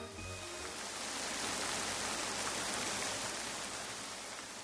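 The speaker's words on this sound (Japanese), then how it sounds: "でも残念、雨が降ってきてしまいました。" Steady rain pours down on a hillside picnic in an animated children's story, a dense, even hiss that carries on unbroken for several seconds with no voices.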